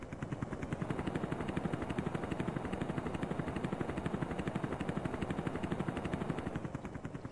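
Helicopter turbine thrust in the Amiga game Zeewolf, a loud, continuous rapid rotor chop with dense, evenly pulsing beats throughout, steady and close.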